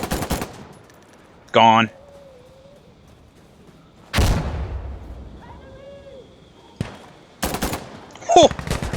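Gunfire in the video game Insurgency: Sandstorm, several sharp bursts and single shots spread apart with quiet gaps, a player talking briefly between them.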